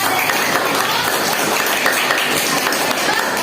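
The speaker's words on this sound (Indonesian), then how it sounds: "tepuk tangan untuk kelompok 1" A classroom of students claps together for a group, a dense, steady burst of applause that is close and fairly loud throughout.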